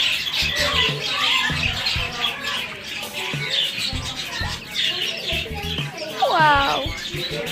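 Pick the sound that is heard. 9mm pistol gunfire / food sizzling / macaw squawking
macaw squawking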